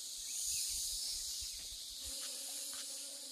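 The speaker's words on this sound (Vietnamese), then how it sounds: "Ô nhiều ong xuống thế nhỉ?" Wild forest bees swarm and buzz close by in the jungle, a dense droning hum with a rising whining tone, over low rustling thumps.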